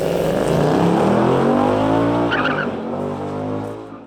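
A Ford Mustang V8 roars loudly and close by while its tires squeal and skid in a sustained, gritty screech that eases slightly toward the end.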